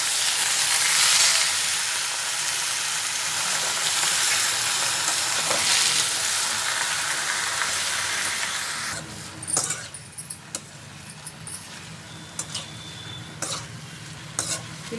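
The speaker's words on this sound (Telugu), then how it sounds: "ఇలా కొద్దిగా పచ్చివాసన పోయేంత వరకు నూనెలో ఇలా గోలించుకోవాలి గోంగూరను." Gongura (sorrel) leaves stirred in hot oil for a lamb curry, with a loud steady sizzle that drops after about nine seconds into quieter frying broken by sharp scrapes and clinks of the spoon.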